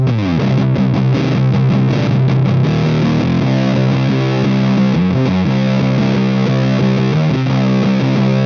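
Marshall Vintage Modern guitar amp with the body control reversed, producing a muddy, thick distorted tone as loud chords ring and sustain continuously, with a few choppy strums early on.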